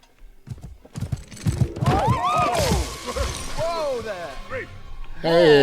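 Horse hooves clip-clop in the film Wicked amid a busy, shifting mix of crashes, whinnies and voices, the hoofbeats brisk and irregular under layered movie sound and reactions.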